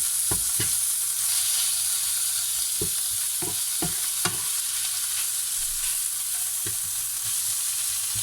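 Boneless fish frying in a pan over very strong heat, a loud continuous hiss of sizzling oil with occasional low knocks and scrapes of the pan and utensil.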